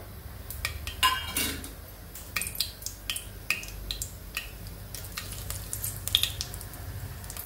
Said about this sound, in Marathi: आता त्याच्यामध्ये आपल्याला खडे मसाले घालायचे